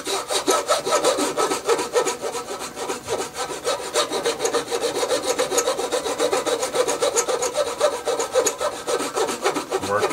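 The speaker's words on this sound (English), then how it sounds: "Work your saw a little bit." A hand saw works through wood with its blade waxed with beeswax, a continuous rapid rasping of back-and-forth strokes, close and steady throughout with no speech.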